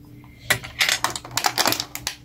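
A decorative spoon with a little bow and butterfly, from an Action store haul, is handled and gives several quick metallic clinks and taps close by, in an irregular flurry with no talking.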